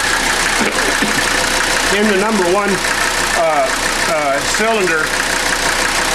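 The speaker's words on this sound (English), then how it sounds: "I'm going to have to talk real loud over this engine running" A Mercedes 300D diesel engine idles loudly and steadily throughout, with someone talking over it near the timing equipment.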